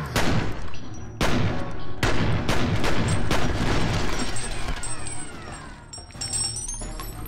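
Intense gunfire in the shooter video game F.E.A.R. on extreme difficulty, with rapid bursts of shots, sharp cracks and crashing impacts overlapping in a loud, chaotic barrage that barely lets up.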